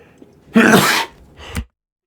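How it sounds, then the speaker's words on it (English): A person lets out one loud, close sneeze with a sharp burst of breath, followed by a smaller second expulsion before silence. "Sorry, I was sneezing my head off."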